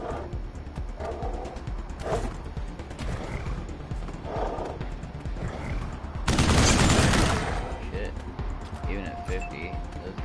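Gunshots in the Wasteland video game, a few scattered shots followed by a loud sustained burst of fire, mixed with horse sounds and someone talking over it.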